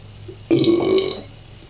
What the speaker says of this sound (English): primo Lion's Head burp